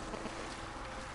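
A voice imitates a motorboat engine, a steady buzzing drone held for about a second, close and fairly loud.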